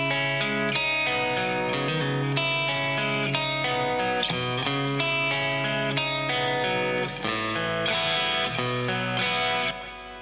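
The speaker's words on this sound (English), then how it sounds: "So if I solo up the clean sound." An electric guitar plays a steady run of chords and single notes in a fairly clean, bright tone with a touch of ambience, continuous and close, recorded through a Nembrini amp plugin.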